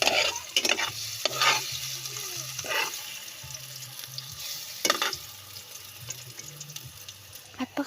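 Banana slices fry in hot oil in a pan, a soft steady sizzle broken by repeated scraping strokes of a stirring utensil, close and clear with a low hum underneath.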